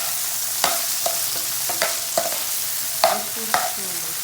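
Tomato and potato fry in a pan with a steady close sizzle, broken by several sharp clicks and knocks of stirring against the pan at irregular intervals.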